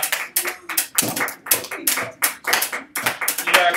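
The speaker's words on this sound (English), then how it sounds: "Yes, you may applaud that" A small group of students claps in a classroom, sparse, uneven hand claps close by with a few separate bursts.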